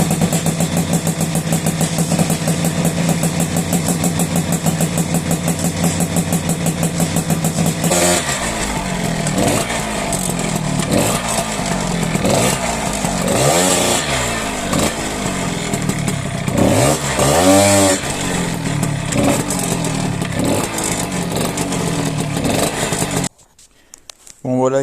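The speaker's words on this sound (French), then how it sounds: "t'as vu vite fait le démarrage. Alors bon, évidemment, ça gratte un peu à froid" A cold Piaggio Ciao moped engine fires up and runs loud and close, a steady high buzzy idle with uneven revving blips partway through, before cutting off abruptly near the end; a voice talks over the engine noise.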